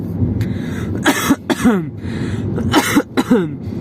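A few short, harsh coughs in quick bursts, close by, inside an aircraft above the clouds, with a steady background rumble underneath.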